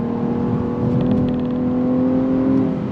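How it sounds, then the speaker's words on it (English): 2023 Nissan Maxima V6 engine while driving, a steady, smooth harmonic drone from inside the cabin, holding an even pitch and loudness throughout. "the V6 sound, I think, is very pleasant to the ears"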